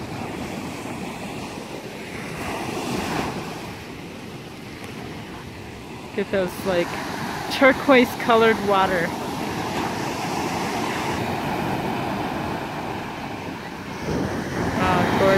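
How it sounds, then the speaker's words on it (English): Surf rolls in at Aliso Beach Park in Laguna Beach, California, as steady wave wash mixed with wind buffeting the microphone, while a person talks over it and a few brief clicks and rattles sound midway. "Just sit here and listen to the waves all day."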